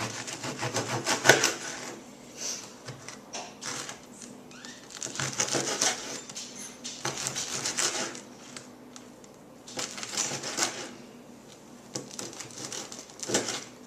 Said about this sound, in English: I cut the bread into 1-inch cubes